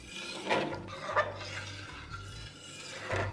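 A spoon stirring full-fat milk thinned with water in a pot, a few close, quiet scraping and swishing strokes against the metal at an uneven pace, with no talking.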